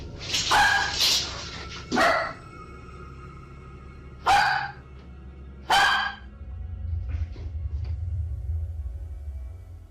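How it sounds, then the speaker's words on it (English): A dog barks fiercely in four loud, sharp bursts spaced a second or two apart, close by, over a low steady rumble with no talking. "Her dog felt an unsettling presence and began barking fiercely, more aggressively than ever before."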